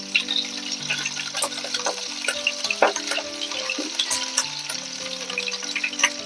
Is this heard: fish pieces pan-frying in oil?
yes